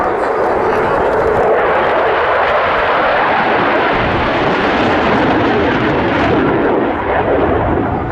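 Jet aircraft flying display maneuvers at the RIAT 2023 airshow, including a negative pushover, a loud continuous roaring engine wash that swells and fades slightly over the whole stretch.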